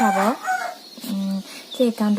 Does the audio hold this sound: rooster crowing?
yes